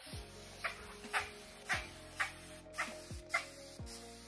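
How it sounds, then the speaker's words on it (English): A handheld spray bottle mists hair during a wash-and-go styling routine, giving about seven short, soft hissing spritzes in a steady rhythm, close up and alone with no talking. "I'm just gonna mist my hair a little bit."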